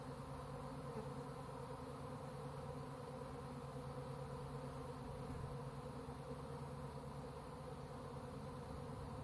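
A honeybee swarm buzzes steadily near a bee box in a backyard, a dense continuous drone from many bees close by without pause.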